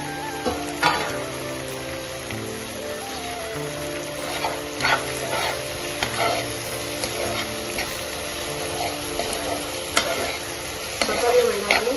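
Onions and tomatoes fry together in a pan for a paneer tikka masala, giving a steady, soft sizzle with occasional stirring scrapes and clinks throughout.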